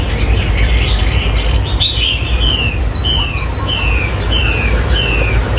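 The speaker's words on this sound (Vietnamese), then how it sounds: "bên em bán là chim họa mi trống" A male Chinese hwamei songbird sings loud, close, rapid sweeping whistled phrases, repeated in quick bursts over a steady low background hum.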